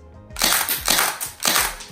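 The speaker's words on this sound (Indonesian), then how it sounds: "saya tembak tisu ya biar kalian jelas loh" A Japanese-made airsoft shotgun fired at a tissue, three sharp, close pops in quick succession, each with a brief crunching rattle, and no talking.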